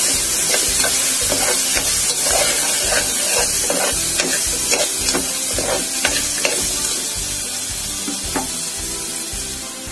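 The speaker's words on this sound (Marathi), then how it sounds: "आता याच्यामध्ये काळे चणे आणि काळे वाटाणे आणि शेंगा टाकून" Black chickpeas, black peas and peanuts tipped into a hot pan of alu leaf bhaji and stirred, a continuous sizzle broken by repeated scraping strokes of a spoon, loud and close with no talking.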